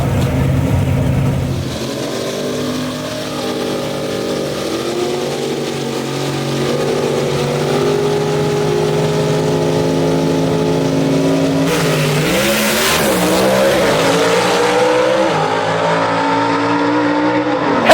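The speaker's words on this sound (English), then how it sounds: "Of a drag race right here, folks." Gasser drag race cars at Knoxville Dragway roar down the strip, loud sustained engine drone with rising revs as they accelerate, a shift-like dip near the start and a louder surge toward the end.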